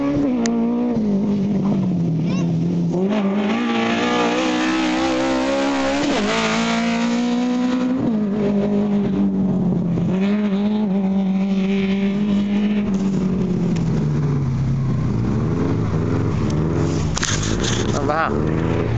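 A race car drives hard around a track in a Finnish amateur racing event, the loud engine rising and falling through gear changes and revs, with faint tire noise and someone talking over it.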